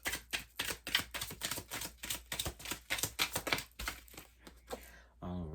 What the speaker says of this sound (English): let's go ahead and start shuffling these cards